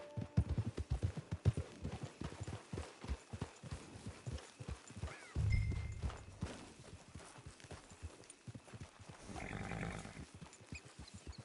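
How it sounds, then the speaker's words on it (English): Horse hooves clip-clop in Red Dead Redemption 2 Online, a quick uneven run of close hoofbeats that thins out midway and then resumes, with a brief snort or whinny and rustling gear mixed in. "Get your horse."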